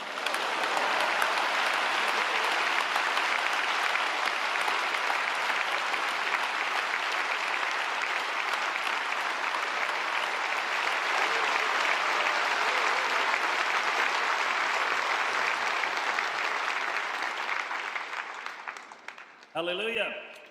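Sustained, loud applause fills a church hall as a Pentecostal congregation welcomes Dr. Wilson, steady and dense for nearly twenty seconds before tapering off, with a voice entering at the very end.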